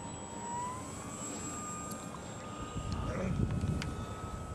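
A fixed-wing airplane makes a low pass in spring flying, its engine a steady drone that slowly rises in pitch and swells louder toward the end.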